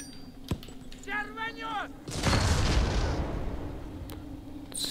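A grenade blast in the Xbox shooter Black erupts after a brief stretch of speech, a loud, broad roar that rolls on and slowly fades over the following seconds.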